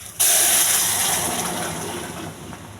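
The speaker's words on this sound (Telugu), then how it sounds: "ఈ మరిగిన రసం వేసేయాలి." Boiled rasam pours into a hot pan of tempering, starting with a sudden loud rush and hiss that slowly settles over a few seconds, with no one talking.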